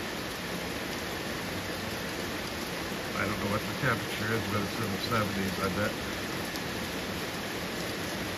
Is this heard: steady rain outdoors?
yes